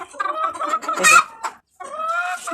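A chicken clucks close by in a farmyard coop where hens lay eggs, giving a quick run of several sharp, nasal clucks and squawks with a short pause before a final drawn-out call.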